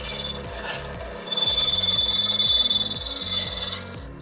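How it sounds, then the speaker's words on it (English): A bandsaw cuts out a wooden guitar body, giving a loud steady whine over a rough, rhythmic rasping that runs for several seconds before the blade is eased off. "I'm going to go cut this out on the bandsaw."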